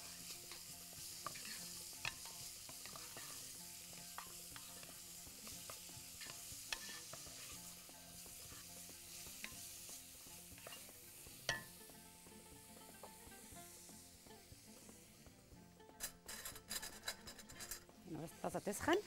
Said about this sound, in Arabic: حط البصل، زي ما تكوني كده بتعصجي اللحمه